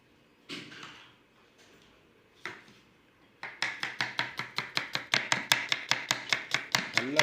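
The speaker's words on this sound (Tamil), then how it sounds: "வாங்க இப்போ கட் பண்ணுற வேலையை பார்க்கலாம்" Onions and tomatoes being chopped with a knife for a chicken biryani: a few scattered knife strokes, then a steady run of quick, evenly spaced chops on a board, close and crisp, with no talking.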